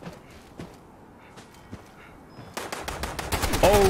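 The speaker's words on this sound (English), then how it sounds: "There's a giant machine gun in there." Machine gun fire in the video game Fallout 76, scattered single shots at first, then a dense burst of rapid automatic fire growing louder toward the end.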